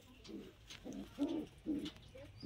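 Pigeons coo inside a cage tented within, several soft rounded coos in slow succession, close by, with no talk over them.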